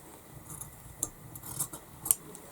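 Scissors snip through jersey fabric trimming a neckline binding, a few quiet crisp cuts at irregular intervals against a faint, otherwise quiet background.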